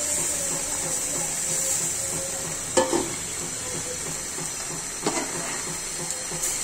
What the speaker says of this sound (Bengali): মাংসের ঝোল দিয়ে তেলে কষানো।